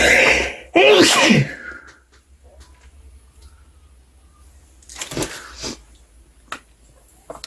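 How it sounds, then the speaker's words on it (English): A single loud, close sneeze with a sharp intake before it, followed by quieter rustling and a few soft sounds. "I'm going to sneeze."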